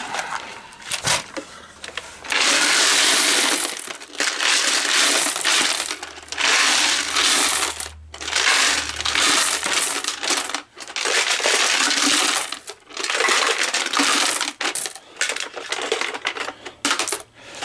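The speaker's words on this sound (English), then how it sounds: "Now, I've got to empty the coins out." Loud, continuous metallic clatter of many coins pouring and jingling out of a vending coin hopper in long bursts, with brief pauses between pours.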